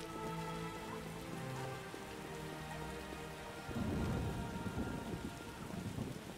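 Steady rain falling in the game The Witcher, with a low rumble of thunder building partway through, over soft musical tones in the background; quiet and continuous.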